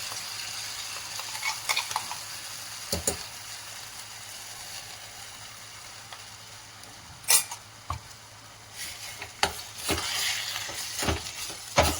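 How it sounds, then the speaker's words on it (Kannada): Fenugreek greens, peas and ground masala frying in a pan, with a low steady sizzle under scattered clinks and scrapes of a spoon stirring against the metal, close and fairly quiet. "ಇದು ಹಸಿ ವಾಸನೆವರೆಗೂ ನಾವು ಬಾಡಿಸ್ಬೇಕು ಚೆನ್ನಾಗಿ"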